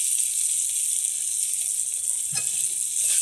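Onion fries in oil with a bright, steady sizzle close up, with a single soft scrape or clink near the end as salt goes in; no voices are heard.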